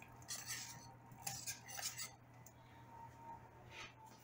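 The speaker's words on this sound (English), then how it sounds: "Now you cook your mushrooms down in here like that." Mushrooms cooking in a pan, stirred with a utensil that scrapes and clinks against the metal in short bursts over a faint low hum, quiet and close.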